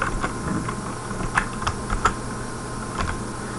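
Keys clack on a computer keyboard, a sparse run of light, close taps with a few sharper strokes and short pauses between them, alone without voices.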